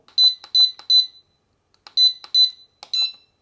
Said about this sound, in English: Two beeps and a green light means it's enabled.